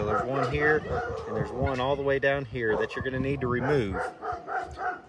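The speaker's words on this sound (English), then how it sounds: "Excuse the dogs." Dogs barking on a country property with chickens and turkeys, several sharp barks and honking fowl calls close by, under someone talking throughout.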